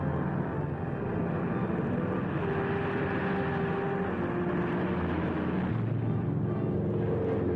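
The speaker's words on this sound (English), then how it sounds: "board C-54 transports and C-119 flying boxcars for their flight to the combat zone" Steady droning roar of piston transport aircraft engines, C-54 transports and C-119 Flying Boxcars carrying paratroopers, holding a continuous loud hum with no talk.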